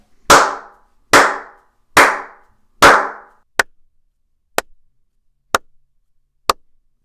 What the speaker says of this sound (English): I'm going to do a clap test just to show you the difference between an environment that's not treated and one that is